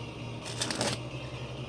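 A fairy shuffle of a deck of playing cards, heard as one short, close riffling burst of about half a second, over a steady low hum and with no talk.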